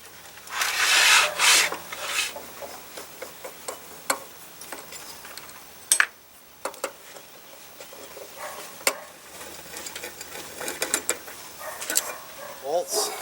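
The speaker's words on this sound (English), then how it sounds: "Take the wrench that it comes with and you start undoing all of these bolts." Wrench turning and loosening the blade-holder bolts on a Makita thickness planer, with faint scraping and rubbing of metal under occasional sharp clicks and taps, spread irregularly at close range, with talk in the background.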